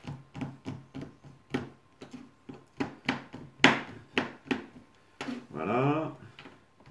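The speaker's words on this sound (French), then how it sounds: "vous coupez le chocolat" Knife chopping chocolate on a cutting board while preparing a chocolate basket, a quick run of sharp, close woody knocks in an uneven rhythm, with a voice talking in between.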